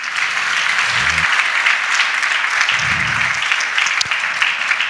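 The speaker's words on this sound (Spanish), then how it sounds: "Y si iban a aplaudir, ahora sí apláudale." Church congregation applauding during a Spanish-language sermon, a continuous broad wash of many hands clapping at a fairly even level throughout, with a couple of brief low voice murmurs underneath.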